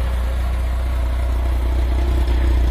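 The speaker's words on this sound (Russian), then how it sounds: "В данный момент давайте послушаем, как работает двигатель. Просто шепчет." Petrol engine of a Tuman-1M self-propelled sprayer idling up close, a steady low rumble with a fine even mechanical patter and no voices over it.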